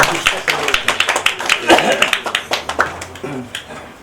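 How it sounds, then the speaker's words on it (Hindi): An audience at a farewell party claps to welcome a guest onto the stage, with scattered, uneven claps from a smaller group heard close up and mixed with voices talking over them. "जोरदार तालियों के साथ सर का स्वागत करें"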